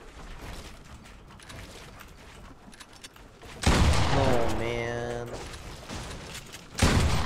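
Gunfire in a squads battle-royale video game cracks in loud bursts over a steady mechanical background, with a voice talking in Spanish in the middle stretch.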